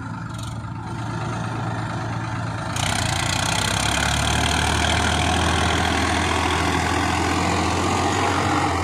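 A combine harvester's heavy diesel engine runs steadily at close range, a low continuous rumble that grows louder and fuller after a few seconds, with no voices.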